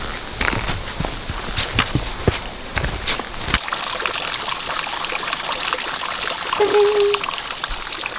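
Water trickles and splashes steadily outdoors along a trail in North Cascades National Park, with a few light crunching footsteps mixed in at the start.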